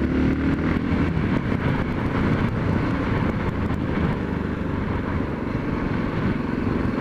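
2013 Yamaha MT03 motorcycle ridden through town and around corners, a steady loud engine drone with wind rush filling the whole stretch, no voices.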